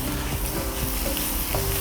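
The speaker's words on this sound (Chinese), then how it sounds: "我们先下入点蒜米和这个姜米一起去炒它" Pan-fried potatoes with garlic and ginger tossed in after them, making a loud, continuous sizzle of hot oil with the scrape of a spatula stirring against the pan, up close.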